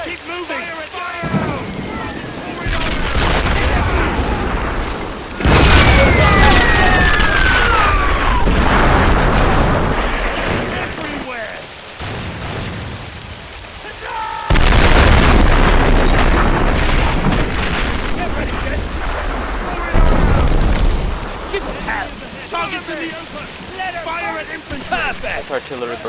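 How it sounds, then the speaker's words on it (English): A WWI artillery barrage in a staged battle demonstration, with heavy rumbling booms and dense crackling blasts in long, sustained waves that rise and fall over about 26 seconds. "This artillery barrage will be substantially shorter than it would be historically"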